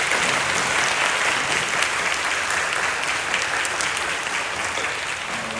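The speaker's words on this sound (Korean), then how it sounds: "우리 박수해 주시죠." A church congregation at a Friday night prayer service applauds together, producing a loud, dense, continuous patter of clapping that fades slightly toward the end.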